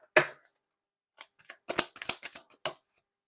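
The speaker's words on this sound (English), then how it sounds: "I'm getting told to shuffle another card" Tarot cards shuffled during a reading, a sharp riffle up close followed by a run of quick papery flicks and slaps, moderately loud against a quiet background with no talking.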